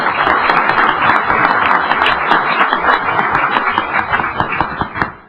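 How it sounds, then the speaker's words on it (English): Audience applause at a tribal council meeting, a loud, dense burst of many hands clapping that holds steady for several seconds and then tapers off at the end. "Let's give them a round of applause."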